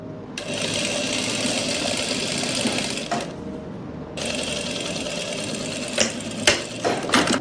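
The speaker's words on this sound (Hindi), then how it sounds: "ऐसे ही आपने दूसरे वाले पे सिलाई लगा देनी है।" Sewing machine stitching a seam on a palazzo bottom, a steady fast whirring run of about three seconds, a brief pause, then another run ending in a few sharp knocks, close and with no talk.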